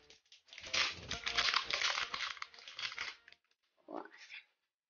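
Foil packs of Ultraman trading cards are torn open close by, giving a sustained crinkling, ripping rustle for several seconds. It stops briefly, then a shorter crinkle follows.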